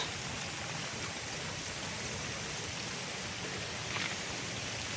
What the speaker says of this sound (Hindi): डेंस फॉरेस्ट है, बारिश हो रही है रिमझिम रिमझिम